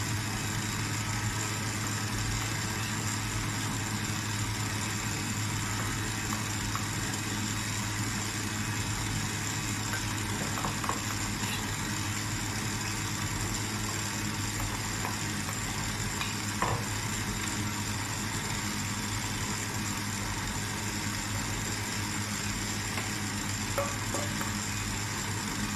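An electric mixer runs at a steady medium speed, blending flour into walnut cake batter, a constant low whirring hum that stays faint and even throughout with occasional soft clicks.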